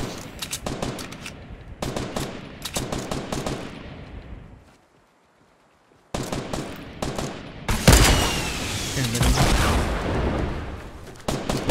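Gunshots in a Fortnite battle royale match: loud rapid automatic bursts and single cracks, a short near-silent pause, then a heavier, denser volley of fire.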